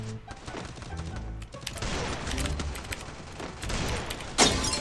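Bursts of video game gunfire rattle in rapid, overlapping volleys with booming impacts, busy and chaotic from start to finish.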